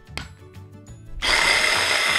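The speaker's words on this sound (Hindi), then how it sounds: "अब मैं इसे ब्लेंड कर लूँगी" A blender whirring through hummus ingredients kicks in loudly after a few light knocks and clatters, then runs as a steady, dense, close-up motor roar.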